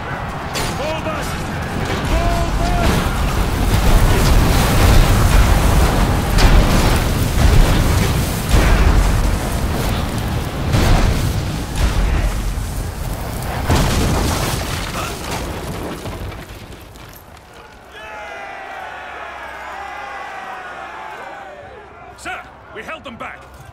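Catapult fire and explosions in the Ryse: Son of Rome video game rumble in a dense, loud barrage of booms and crashes. Shouting voices carry over it, and a quieter crackling, rattling stretch follows near the end.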